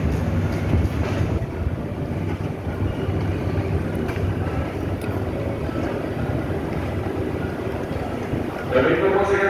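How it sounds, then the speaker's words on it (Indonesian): The Cermai passenger train, hauled by a CC206 locomotive, rolls into Brebes station in Central Java with a continuous heavy rumble and clatter filling the platform. "Rangkaian kereta api Cermai memasuki Brebes kota."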